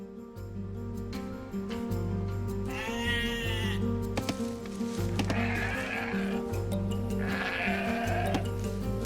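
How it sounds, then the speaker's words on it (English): Sheep bleat repeatedly in Age of Empires II over a steady game soundtrack, joined by horse whinnies and faint hoof clip-clops, each call loud and close. "Now select the sheep by holding the right directional button, and then move them to the town center."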